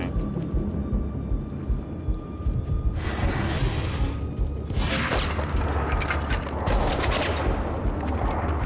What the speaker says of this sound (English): we gotta use the rocket launcher